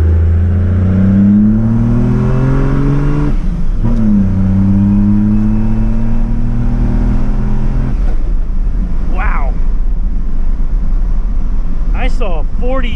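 A Cummins diesel truck with modified delivery valves and over 40 psi of boost accelerates under load in third gear from about 1500 RPM, its loud engine drone climbing steadily in pitch, with voices briefly heard near the end.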